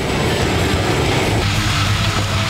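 A giant tree-debris grinder with a 1,000 hp 12-cylinder engine and a 5.5-foot 80-tooth drum drones loudly and continuously, a heavy low roar with a steady engine hum that deepens slightly partway through.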